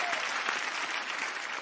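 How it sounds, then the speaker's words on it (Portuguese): Studio audience applause on a Brazilian TV game show, a brief burst of dense clapping with a faint voice or tone underneath, moderately loud and steady. "Uma salva de palmas pra ele."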